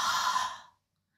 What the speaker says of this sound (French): c'est la respiration avec le son dans la gorge